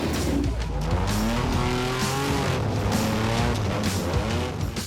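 An off-road four-wheel monster vehicle claws up a rocky massif, its engine revving hard and roaring loudly and steadily, with gear changes and rising pitch throughout.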